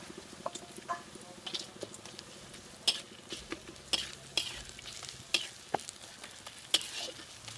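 Ginger and garlic paste frying in a pan for loitta shutki bhuna, a soft continuous sizzle under frequent spatula scrapes and taps against the pan, close and fairly quiet.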